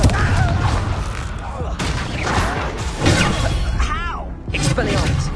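Confringo spell blasts in Hogwarts Legacy, loud repeated explosive bursts and crackling impacts mixed with game effects, with a voice shouting spell names throughout.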